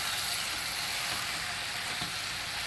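Chicken sizzles steadily in a pan as it is stirred, a loud, even hiss of frying with faint scraping, no talking.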